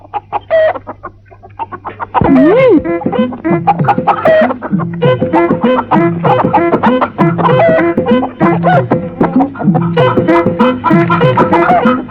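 Chickens cluck loudly and continuously, a dense rhythmic chorus of clucks close by, starting after a brief quieter moment.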